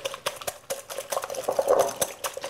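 A whisk or spoon stirring French toast batter with brown sugar in a bowl, quick repeated wet clinks and sloshes against the sides, close and moderately loud, with no talking.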